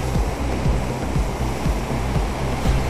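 The Bawla river at Amthana runs in flood, its rushing water making a loud, continuous roar with faint low thuds pulsing underneath.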